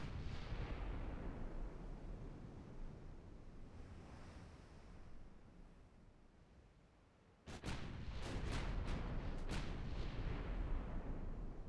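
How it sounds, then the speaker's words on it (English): Heavy naval gun salvos from warships in the Ultimate Admiral Dreadnoughts game sound over steady wind and surf noise, arriving as a cluster of sharp booming shots in the later half. "These ships will just keep their distance and shoot."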